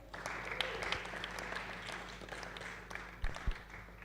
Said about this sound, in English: one more applause for him.